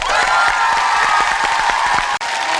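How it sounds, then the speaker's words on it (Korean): A studio audience at a 1998 Korean television variety show gives guest performers a loud, sustained round of applause with crowd noise and cheering, steady throughout with one brief dropout near the end. "큰 박수 부탁드리겠습니다"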